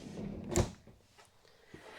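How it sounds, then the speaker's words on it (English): A refrigerator or freezer drawer in a Sierra 40 Duplex RV kitchen slides shut with one close, solid thump, followed by faint rattles. "And then that fridge drawer and freezer drawer there."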